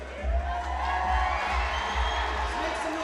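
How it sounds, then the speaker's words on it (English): A crowd cheers and roars steadily at a fight championship, a dense wash of voices running throughout beneath a commentator's talk. "Sounds like the crowd favors Darren X a little bit"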